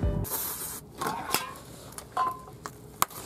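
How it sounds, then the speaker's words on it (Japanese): Short bursts of spray from a fuel spray can wetting a rubber fuel hose during work on a Toyota AE86 fuel system, a few brief close hisses mixed with handling noises and faint rubbing. "こういう時はね、燃料スプレーで濡らして入れます。"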